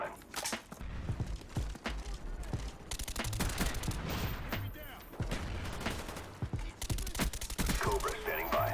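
Rapid AK-47 gunfire from Call of Duty: Black Ops on Xbox 360, dense crackling bursts of shots repeating steadily through the whole stretch, loud and close, with game effects mixed in.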